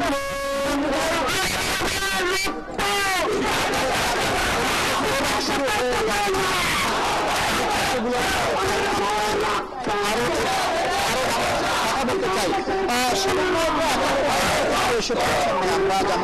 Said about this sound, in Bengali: সেই শিক্ষার্থীরা এখানে জড়ো হচ্ছেন এবং স্লোগান দিচ্ছেন